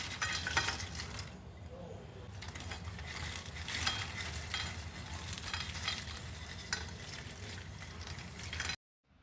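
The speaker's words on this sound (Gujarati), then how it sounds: "આ રીતે તમને અવાજ પરથી જ ખબર પડી ગઈ હશે કે આપણા નમકપારા કેટલા ખસ્તા ક્રિસ્પી અને કરકરા બનીને તૈયાર થયા છે" Crispy fried wheat-flour namakpara being stirred and handled, making a dense, continuous rustling and crackling close by at low volume, with light clinks as it is moved around, then an abrupt stop.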